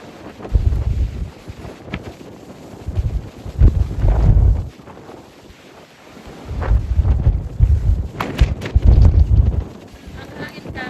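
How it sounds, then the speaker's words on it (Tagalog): Strong seaside wind in Ilocos Norte buffets the microphone in heavy, rumbling gusts that rise and fall, with brief calmer gaps between the blasts. "Ang hangin guys."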